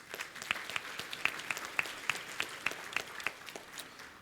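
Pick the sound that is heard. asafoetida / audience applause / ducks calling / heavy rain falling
audience applause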